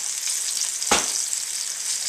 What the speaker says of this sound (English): I'm getting ready to add the, what was that, the panini? The macaroni panini to the boiling water back here.